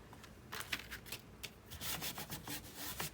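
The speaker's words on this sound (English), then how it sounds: "since I'm rubbing across this stencil, one side of the paint will have more paint than the other" Paint being rubbed across a stencil on paper for Halloween art journal pages, heard as a series of close, dry scratchy strokes in an irregular rhythm, growing denser and louder toward the end, with no talking.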